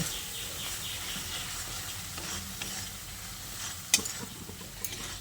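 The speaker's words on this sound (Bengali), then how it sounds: "তারপর এই মশলাটা দিয়ে আবারও ভালো করে নেড়ে চেড়ে মিশিয়ে নিচ্ছি" Spices stirred into a kadai while frying for a pointed gourd (potol) dish: a steady soft sizzle with scraping ladle strokes, and one sharper metallic clink near the end.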